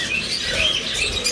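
Pet birds in a breeding farm, including a rare black mutation, chirp in quick, thin bursts, several overlapping tweets at moderate distance over faint background noise.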